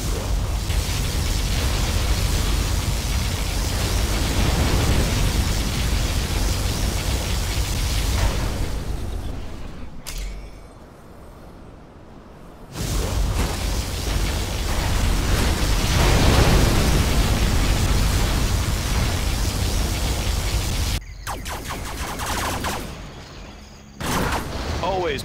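Particle cannon blasts from the video game Command & Conquer Generals, loud continuous roaring explosive noise with a few abrupt drop-outs and renewed bursts, crackling throughout.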